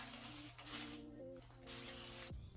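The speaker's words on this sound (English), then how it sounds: "I'm gonna just start by spraying it with some water." Several short bursts of water spray hiss from a trigger bottle onto a curly wig, separated by brief pauses, close and fairly loud over a steady low hum.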